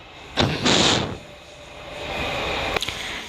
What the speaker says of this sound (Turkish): Marmaray sesi var kusura bakmayın.